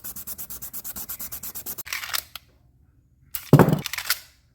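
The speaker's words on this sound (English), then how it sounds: "so I sanded the inside of it as well" Inside of a wood grip from a late-1980s Tanfoglio TZ75 pistol being sanded, with a quick run of about a dozen even, rhythmic rasping strokes, followed by two louder, rougher rubbing bursts separated by a pause.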